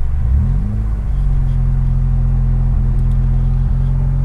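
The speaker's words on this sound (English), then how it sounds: "Again, is revving the car up." Mitsubishi Lancer Evo X engine revving during a transmission teach-in, a loud close rumble that climbs and then holds steady with small dips, no voices.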